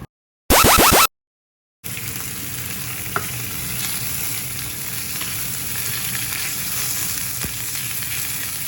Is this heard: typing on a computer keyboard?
no